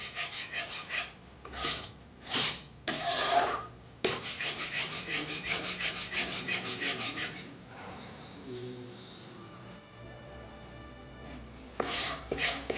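Mango sandesh mixture being stirred in a pan, producing rhythmic rasping scrapes of the spoon against the pan, close and steady, then thinning out, with a voice speaking briefly partway through.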